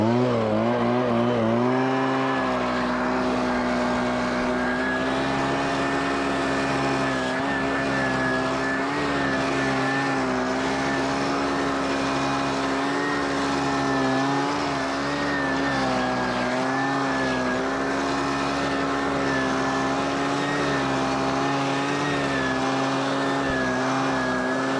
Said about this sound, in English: it's time to run my blower